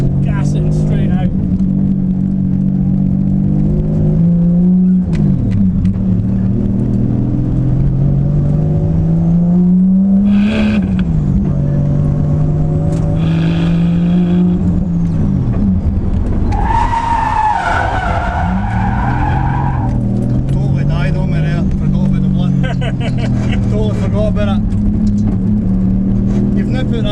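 An R33 Skyline drifts on a track, its engine revving and swelling as the throttle opens, with tyres skidding and squealing loudly through the slide; people talk over the car throughout.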